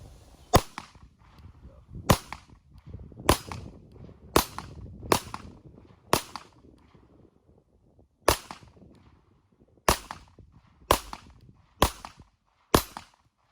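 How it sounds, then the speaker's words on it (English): A Canik TP9SFX pistol fires about a dozen sharp, loud shots at an outdoor range, spaced irregularly about a second apart with brief echoing tails and no talking. "Let's see how fast the Canik TP9SFX shoots."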